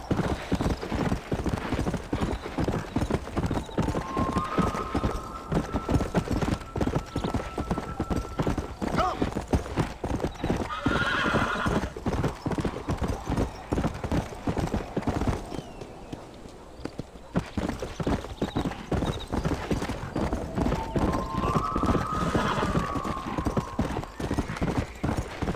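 Horse hooves clip-clop steadily at a walking pace in the Red Dead Redemption video game, with occasional whinnies and a Spanish-speaking voice talking over the game sound, briefly dipping in the middle.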